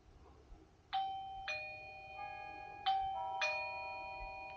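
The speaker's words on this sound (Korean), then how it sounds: "집 안에 있는 초인종도 같이 울리게 됩니다" A home doorbell chimes indoors in a series of clear ding-dong tones, roughly four or five bright strikes spaced about a second apart with ringing decay, over quiet background noise.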